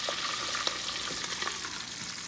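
Pork belly for lechon kawali frying in hot oil in a covered kawali, a steady close sizzle and bubbling crackle with faint pops, no voices.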